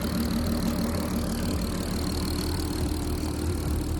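A turbocharged Golf R32 engine runs steadily with a low, even rumble and no pauses, heard close and continuous with no speech over it.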